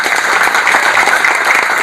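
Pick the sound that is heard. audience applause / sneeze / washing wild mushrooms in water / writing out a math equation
audience applause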